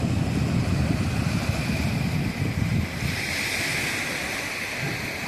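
Sea waves wash onto a beach at Umm Al Quwain in a continuous roaring surf, heavy with wind rumble on the microphone. The sound stays loud and steady throughout, with no voices.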